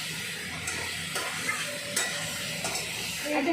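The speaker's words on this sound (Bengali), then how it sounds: "দিয়ে করে কষে নিচ্ছি এখনও কষা চলছে" Pointed gourd with coconut is stirred and sautéed in a pan, giving a continuous close sizzle with soft scraping strokes of the spatula at a steady rhythm and no talking.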